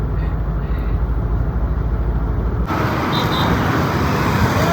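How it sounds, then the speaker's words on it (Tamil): A vehicle moves along a road at night, a steady low rumble of engine and tyre noise that fills the whole clip and turns brighter and broader about halfway through as it draws nearer. "நான் வண்டி ஏதோ அங்க வருது போல இருக்கு"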